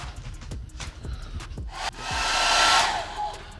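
Hair dryer warming the body of an Audi TT RS 8J MK2 in freezing weather before a Maxton Design spoiler extension is bonded on, roaring loud and close after a few soft taps and handling noises.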